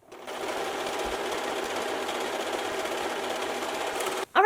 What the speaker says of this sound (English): I'm going to use the serger, of course, to go across all the edges here